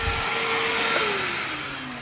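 A shop vac runs steadily as part of a first dust collection setup, a loud continuous motor whine with a slowly falling pitch, alone without talk.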